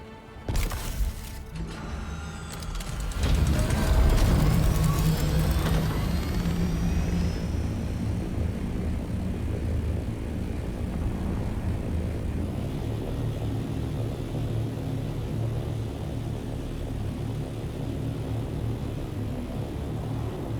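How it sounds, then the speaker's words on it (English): An aircraft sweeps past in Dune: Awakening, a sudden loud whoosh and rumble near the start that settles into a steady engine drone lingering to the end, no voices over it. "Let me just do a quick flyby."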